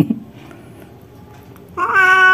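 A pregnant stray cat being coaxed into a carrier during a rescue gives a loud, drawn-out meow near the end, after quiet rustling and low background noise.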